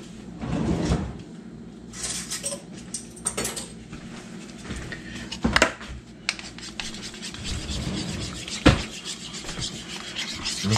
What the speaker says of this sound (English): We get a spoon, we'll stir that up.